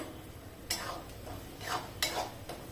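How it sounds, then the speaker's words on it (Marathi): Metal lid lifted off a cooking pot of paneer and peas curry, a few soft clinks and scrapes of metal on metal, quiet and close, with gentle kitchen clatter between them. "हे बघा आता आपण झाकण काढून घेऊ"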